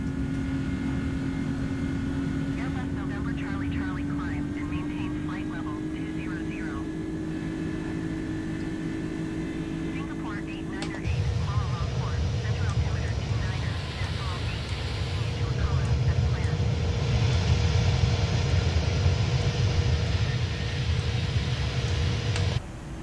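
Simulated Airbus A310 engines in Microsoft Flight Simulator 2020 give a steady whining drone with a tonal hum. Midway it jumps to a louder, broader roar as the listening position changes, with some talk over it.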